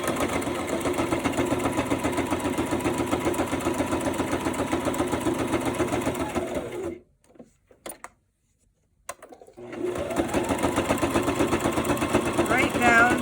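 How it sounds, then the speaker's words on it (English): A sewing machine runs in steady rapid bursts while back stitching the edge of a Christmas pocket flip with a tag, pausing briefly in the middle before starting again, with a voice talking over it. "we're just gonna back stitch a little bit here."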